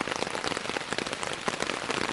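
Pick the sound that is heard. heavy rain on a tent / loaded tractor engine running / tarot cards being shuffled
heavy rain on a tent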